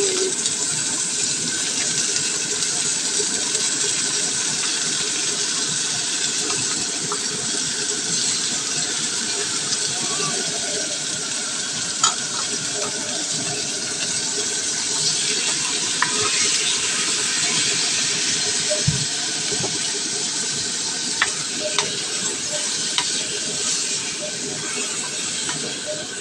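Chicken simmers in coconut milk with chayote in a cooking pot, a steady close hiss and bubbling with small occasional clinks, running continuously for almost half a minute.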